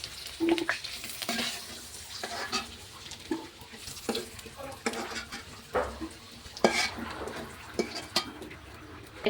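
Country chicken sizzles in a pan while a utensil stirs and scrapes against it in irregular bursts, close by.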